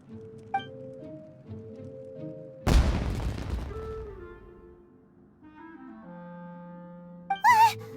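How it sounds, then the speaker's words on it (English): Fireworks go off in the Genshin Impact game: a single heavy boom bursts out over quiet music and slowly rumbles away. A second sharp crackling burst follows near the end. "Was that an explosion? It sounded like fireworks."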